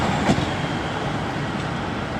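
A Marston Vale line train pulls away from a station on the Bletchley to Bedford route, a steady rumbling roll with faint rail clatter, moderately distant and without voices.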